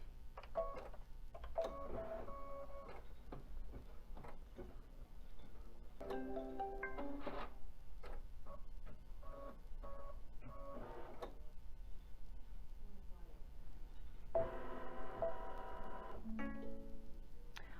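An embroidery machine stitches a design on hooped fabric, its rapid mechanical needle clatter running continuously with bursts of whirring motor tones, fairly quiet and close with no talking.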